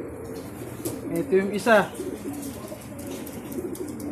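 Racing pigeons cooing at a loft after a training toss from Talavera, a few soft throaty coos near the mic mixed with light fluttering and birdsound, while someone talks over them.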